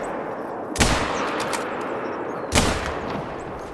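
Two loud rifle shots ring out in theHunter: Call of the Wild hunting game, spaced about two seconds apart, each a sharp crack over a steady ambient bed with no talk.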